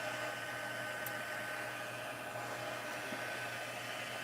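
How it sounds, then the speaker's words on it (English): A heat embossing gun blows steadily during card making, a constant airy whir with a faint hum that runs unchanged from start to end, with no voices. "in the videos I've been recording, I have been heat embossing"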